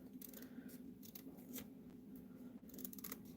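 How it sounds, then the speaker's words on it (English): Scissors snipping through sheets of farm toy decals in a quiet room, with several short, soft cuts spread across a few seconds over a steady low background hum. "if I can cut these straight"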